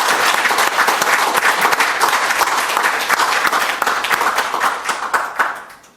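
A crowd claps in sustained, dense applause for several seconds, steady and fairly loud, then fades out at the end.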